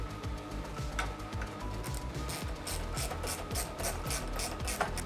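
Ratchet wrench tightening the bolts on an SW Motorsport car seat base, a steady run of close, loud clicking strokes that continues without pause throughout.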